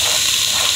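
Onion frying in hot melted coconut oil in a pan: a loud, steady, close sizzle and hiss that holds unbroken through the moment, with no voices.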